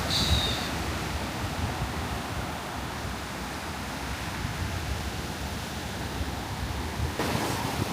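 Ocean waves washing onto a beach, heard as a steady broad roar of surf with wind buffeting the microphone throughout.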